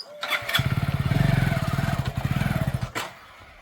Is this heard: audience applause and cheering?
no